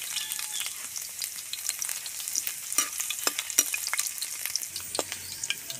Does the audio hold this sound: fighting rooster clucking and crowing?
no